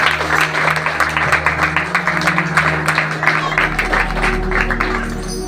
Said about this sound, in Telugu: అందరూ చప్పట్లు కొడుతున్నారు.